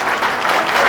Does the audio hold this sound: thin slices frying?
no